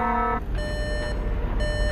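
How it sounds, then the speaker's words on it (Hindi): A danger alarm sounds in a Skibidi Toilet animation. Loud, steady electronic beeping tones repeat with brief pauses over a rumbling background. "ये अलार्म का यानी कि खतरे का डेंजर का साउंड था"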